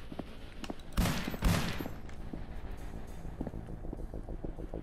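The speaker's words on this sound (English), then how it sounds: "why are my bullets firing?" Gunfire in a video game set in a strange realm: two loud, sharp bursts about half a second apart near the start, then a steady windy, rumbling background with faint clicks and no talk.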